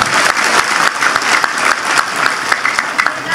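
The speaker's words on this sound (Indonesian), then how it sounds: "Tepuk tangan untuk Pak Prabowo." Crowd applause at a street demonstration in Indonesia, dense and loud continuous clapping from many people with irregular sharp peaks, sustained throughout without speech.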